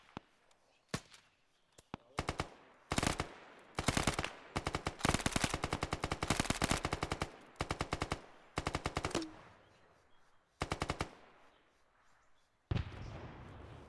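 Automatic rifle and machine-gun fire in the military shooter ArmA 3 crackles in rapid, loud bursts of varying length, with short pauses between volleys and a final burst near the end.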